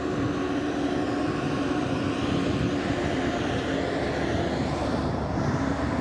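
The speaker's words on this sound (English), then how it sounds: "Apologize for the noise. This road can get quite busy." Steady roar of passing vehicles on a busy main road in Playas del Coco, Guanacaste, Costa Rica, a continuous broad engine and tire rumble with no pauses, fairly loud and close.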